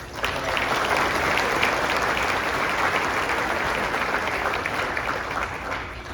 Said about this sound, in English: If I can give a round of applause.